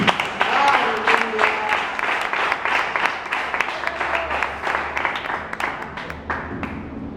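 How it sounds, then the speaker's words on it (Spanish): Audience applause during a Spanish-language church sermon on commitment to God, a scattered burst of clapping heard alongside voices, lasting several seconds and fading out toward the end. "No sé si te puede dar un aplauso aquí."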